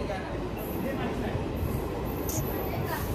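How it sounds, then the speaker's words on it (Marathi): Local passenger train pulling into a suburban station near Wankhede Stadium in Mumbai, a steady rumbling roar of wheels and rail noise with faint squeals, continuous throughout amid station bustle and voices. "ही जी ट्रेन आली ती"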